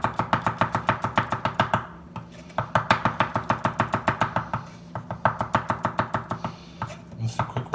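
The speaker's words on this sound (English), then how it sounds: "Then I'll go through real quick and slice them up." A knife slices vegetables for salsa on a cutting board in quick, steady runs of sharp chops, separated by brief pauses, close and clear with no talk.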